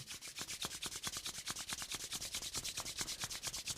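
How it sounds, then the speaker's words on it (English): Palms rub briskly together in a fast, even back-and-forth rhythm, a soft close swishing friction sound repeated steadily with no voice over it. "Slowly rub your hands together, make them nice and warm"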